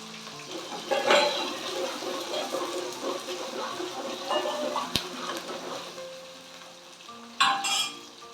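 Garlic cloves and onion frying in oil in a pan for a spicy fish curry, a continuous sizzle with stirring scrapes and a sharp clatter of the utensil, rising louder near the end.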